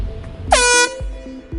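A train horn blows one loud, close, sustained blast lasting about a third of a second, with a brief low rumble of the train before and after it.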